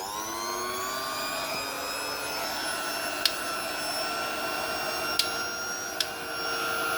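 A 1956 hair dryer runs with a steady, fairly quiet motor whine and airflow hum, broken by three short sharp clicks near the end.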